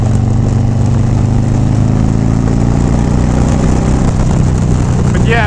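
Harley-Davidson Softail Deluxe motorcycle being ridden, its engine producing a loud, steady low rumble that holds throughout with a little wind noise and no clear talking.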